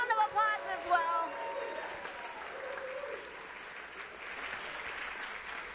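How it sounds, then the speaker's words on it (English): A voice speaks briefly, then an audience breaks into sustained applause that carries on steadily, heard from a distance at moderate volume. "let's give this donor a big round of applause as well"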